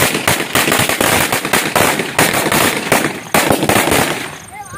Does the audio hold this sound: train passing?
no